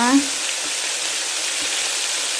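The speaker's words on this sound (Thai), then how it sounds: "ปลาเราจะได้ทอดออกมาได้สวยงามนะจ๊ะนะจ๊ะ" Fish frying in a pan of hot oil, a steady close sizzling hiss with a brief tonal blip at the start, no talk over it.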